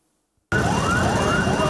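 A fire engine siren wails loudly and close at hand, its rising and falling tone starting abruptly after a moment of silence and continuing steadily, heard alone with no voices, at a shopping mall fire in southern Pakistan.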